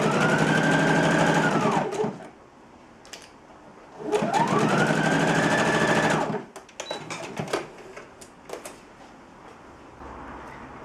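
Sewing machine stitching the side seams of a Simplicity Lisette 2059 dress, two bursts of steady whirring stitching about two seconds each, with quieter handling clicks between.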